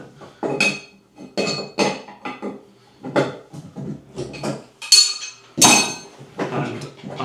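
Metallic clinks and scrapes come from undoing a nut on a basin tap pipe, in a series of short, close bursts separated by brief pauses.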